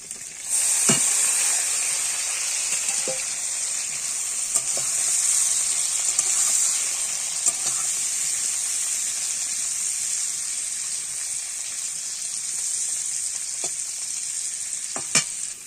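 Potatoes frying in hot oil give a loud, steady, close sizzle and hiss, broken by a few soft clicks of a spatula stirring the pan.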